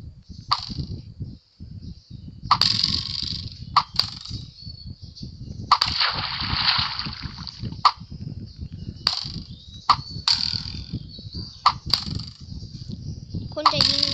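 A Minecraft TNT cannon launches arrows in the video game, giving a series of sharp, irregularly spaced pops and bursts over a low background.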